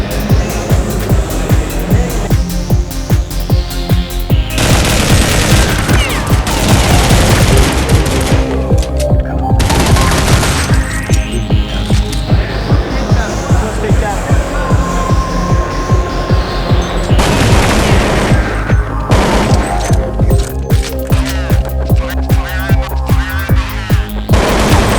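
Rapid bursts of automatic gunfire from Counter-Strike fill the scene, dense and loud with repeated volleys and sweeping tonal effects, continuing almost without pause.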